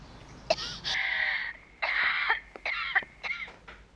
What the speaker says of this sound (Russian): Мам, ты кашляешь?